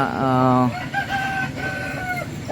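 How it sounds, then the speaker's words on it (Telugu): Large-breed roosters crowing on a farm, a loud drawn-out crow up close followed by more crowing and clucking from several birds. "ఇవన్నీ కూడా పెద్ద సైజు పుంజులు"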